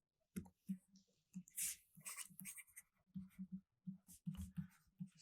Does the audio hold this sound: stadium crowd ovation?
no